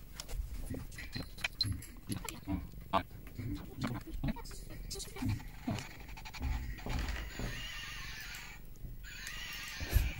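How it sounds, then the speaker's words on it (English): A child's toy horse gives out repeated electronic neighing and whinnying in the background of a room where someone works on a GPD Win 2 handheld PC, with scattered clicks and handling noises throughout. "It's my daughter on the background with a toy horse."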